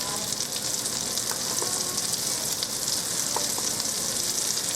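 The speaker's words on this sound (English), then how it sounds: "I'm going to put the rest of these in here to cook" Swedish meatballs sizzle and fry loudly as they brown in a single pot, a dense, constant crackle with occasional sharper pops, close and steady, with no talking.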